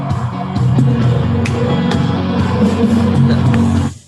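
A sampled live-gig crowd claps and cheers steadily through a song intro, a dense, continuous wash of applause with scattered whoops, cutting off abruptly at the end.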